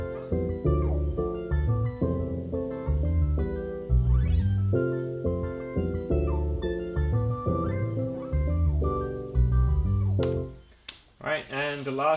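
A boom bap hip hop beat plays, with punchy drums and a deep bass line in a steady, looping groove, fairly loud and alone before it cuts off near the end.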